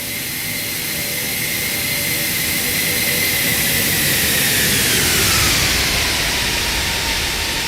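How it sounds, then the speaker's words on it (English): An Airbus A340 jet does a flyby in the Toliss flight simulator game. A loud, steady engine roar swells toward the middle and then fades, with a falling whine as the aircraft passes. "so we can do a couple flybys"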